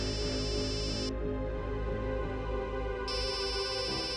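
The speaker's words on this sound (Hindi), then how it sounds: "दया का फोन?" Mobile phone ringing indoors in a Hindi crime drama scene: an electronic ringtone pulses on and off, pausing for about two seconds before resuming, loud and steady over a constant background tone, with no speech.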